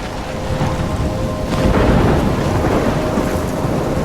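A thunderstorm near a lighthouse in the video game Life is Strange rumbles with dense, loud, continuous rain and rolling thunder swelling in the middle.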